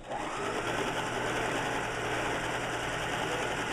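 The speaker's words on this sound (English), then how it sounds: "And sew all the way across it." A sewing machine stitches steadily across a quillow, a quilt that folds into a pillow, in one continuous close, loud whirring run with no pauses.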